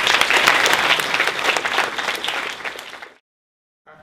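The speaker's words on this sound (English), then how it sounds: "Please give a great round of applause for the Executive Director of the California Alumni Association," Audience applause for the Executive Director of the California Alumni Association at a development session: dense, loud clapping for about three seconds, then a sudden cut to silence before a faint sound returns at the end.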